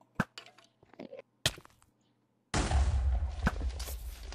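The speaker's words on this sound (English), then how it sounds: "I heard explosions." Minecraft explosions: sharp, scattered cracks and thumps amid footsteps and block-breaking clicks, then a sudden loud, sustained rumbling burst at close range.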